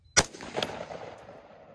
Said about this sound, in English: I'm just gonna shoot this string, or shoot all the strings and then write them down later